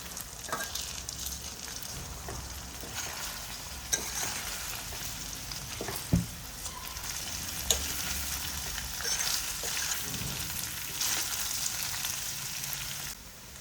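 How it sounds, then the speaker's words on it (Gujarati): Bottle gourd muthia dhokla pieces fry in a hot tempering of oil with mustard seeds, cumin, sesame, ginger-garlic-chilli paste and onion, giving a steady close sizzle with occasional stirring clicks and scrapes. "પછી આપણે ઢોકળા નાખી દેવાના છે વઘારમાં"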